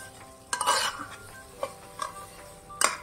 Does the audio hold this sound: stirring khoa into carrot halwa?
yes